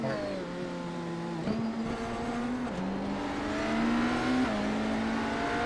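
A GT3 race car on the Daytona circuit holds a steady, loud engine drone that shifts pitch as gears change, with a second car's note layered in as they pass. No voices are heard.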